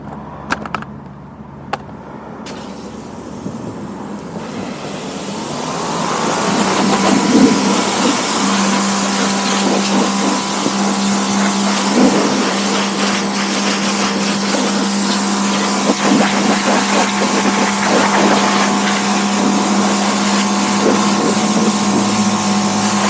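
A Greenworks PRO 2300 PSI electric pressure washer starts up after a few clicks and then runs as a loud, steady, close whine with a strong tonal hum, holding constant for about fifteen seconds.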